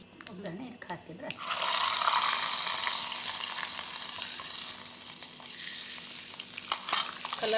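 Hot tempering of cumin, mustard seeds and pepper poured into kokum rasam, flaring into a loud, steady sizzle that holds for several seconds after a brief opening clatter.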